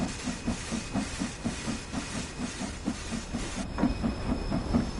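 Steam locomotive working at full throttle in the Train Sim World 3 game, a steady hiss of steam with rhythmic chuffing beats repeating evenly throughout, loud and continuous with no talk.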